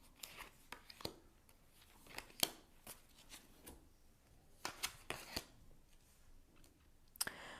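Quiet, close-up tarot card shuffling: irregular flicks and soft riffling snaps scattered over several seconds, with faint rustles in between.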